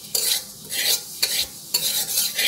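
Sesame seeds frying in a pan for Puja naru sweets, with a spoon scraping and stirring them in a steady sizzle, marked by three sharp strokes, close and fairly loud, with no talk.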